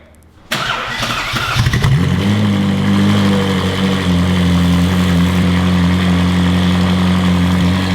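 A modified Ferrari engine cranks and fires up, revs briefly, then settles into a loud, steady, rumbling idle close by.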